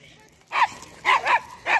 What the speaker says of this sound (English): Oh, I see why he's barking.